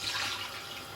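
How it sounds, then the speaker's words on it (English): Water poured into a cooking pot while making jollof rice, a soft, steady splashing trickle heard briefly and faintly up close. "Okay, put more water."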